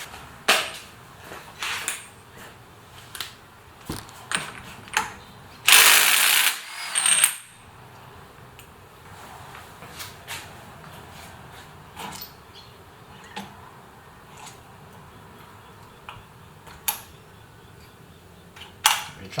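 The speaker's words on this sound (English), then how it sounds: "the easiest way to do that is with a rattle gun" A rattle gun hammers off the clutch basket nut on a Suzuki 109R engine, a loud close burst of about two seconds, followed by scattered metallic clinks and tool handling.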